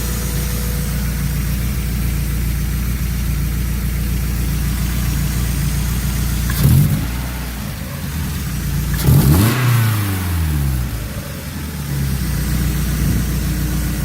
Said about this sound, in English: the engine's running. You can hear the air just sucking through there